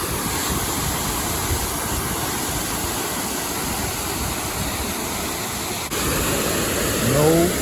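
Continuous rushing water pours over the top of an overflowing Rideau Canal lock with a broad, steady roar, loud and unbroken, with a brief mechanical whine rising near the end.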